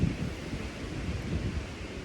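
Light outdoor breeze blowing steadily, a soft continuous rush with low buffeting and no voices.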